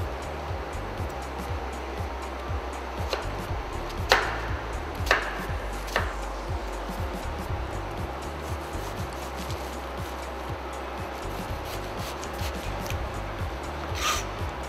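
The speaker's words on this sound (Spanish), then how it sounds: "y vamos a cortar la cebolla de este modo." A knife slicing an onion on a cutting board, with a few sharp, separate cuts over a steady background hiss.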